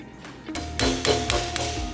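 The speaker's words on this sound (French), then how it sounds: "tenez votre cale et votre chasse-goupille et frappez un coup sec" A hammer strikes a pin punch braced against a block to drive a pin out of a modular mesh conveyor belt, giving a few sharp metallic taps in quick succession, close and clear.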